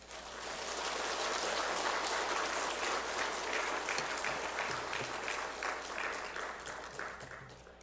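Church congregation at a worship service applauding in thanks as a pastor comes forward, a dense, steady clapping wash sustained throughout, moderately distant and even.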